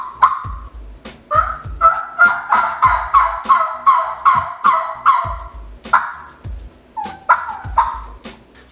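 A turkey gobble imitated on a mouth call: a loud, close series of rapid, rattling gobbles, repeated roughly every half second in pulsing bursts with brief pauses between them.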